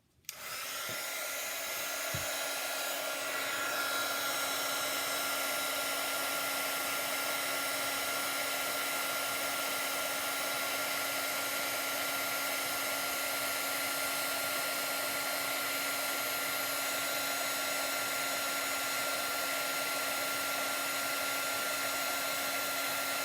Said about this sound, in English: Now I will use my heat tool.